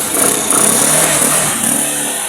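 Motorcycle engine running after a top overhaul, a steady close idle with a buzzing mechanical drone and slight rev swells, brief and continuous.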